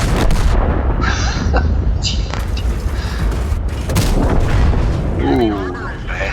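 Tank cannon fire in a tank video game, heavy booming shots over a dense, loud rumble of battle noise, with a brief gap near the end of the stretch.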